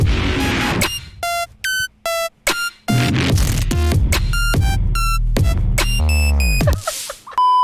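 Bright electronic synth tones from a Serum patch play a choppy sequence of short stabs and sustained notes, with a low bass pulse and a rising, wobbling sweep near the end.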